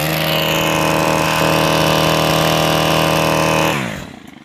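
A Stihl KombiSystem 130 with a trimmer extension runs at a steady high, buzzing throttle for about four seconds, then winds down and fades as the engine eases off.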